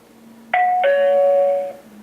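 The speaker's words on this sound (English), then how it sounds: "When pressed, Bosma X1 plays the doorbell sound" A Bosma X1 indoor security camera plays its doorbell chime, two clear electronic ding-dong tones rung one after the other, loud and close, the second ringing longer before fading over a low hum.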